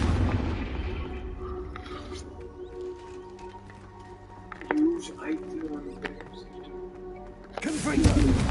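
Explosive Confringo spell blasts in Hogwarts Legacy, one sharp burst midway followed by crackling debris and a louder, broader blast near the end, all set over a steady game music bed.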